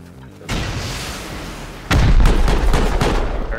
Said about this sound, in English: Send a rocket in there, hold on.